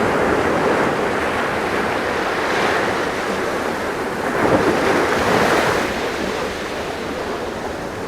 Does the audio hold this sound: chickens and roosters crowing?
no